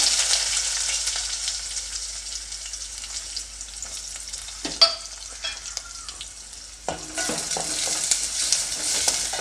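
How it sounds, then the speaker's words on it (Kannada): Two medium chopped onions hit hot oil with mustard seeds and cumin for cucumber palya, a steady close sizzle broken by stirring scrapes, swelling louder after a fresh stir. "ಇವಾಗ ನಾನಿಲ್ಲಿ ಎರಡು ಮೀಡಿಯಮ್ ಸೈಜ್ ಈರುಳ್ಳಿನ ಹೆಚ್ಚಿಬಿಟ್ಟು ಇಟ್ಕೊಂಡಿದ್ದೆ ಈರುಳ್ಳಿನ ಹಾಕ್ಕೊಳ್ತಾ ಇದ್ದೀನಿ"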